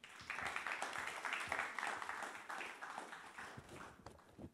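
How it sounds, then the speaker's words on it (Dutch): Audience applause for two guests, a man and his robot, arriving on stage at a Dutch talk show event at Tilburg University; moderate, steady clapping sustained for several seconds, fading toward the end. "Geef ze een hartelijk applaus."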